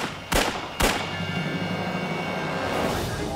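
Two sharp gunshots in quick succession, a police officer returning fire at an armed bank robber, each a loud cracking burst followed by a lingering ringing tail.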